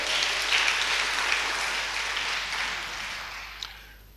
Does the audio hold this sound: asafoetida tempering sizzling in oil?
no